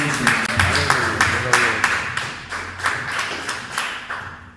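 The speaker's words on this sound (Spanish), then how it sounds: "palmas al Señor y que le bendiga" A church congregation claps hands in praise, a run of sharp, fairly regular claps carrying over singing or voices in the background.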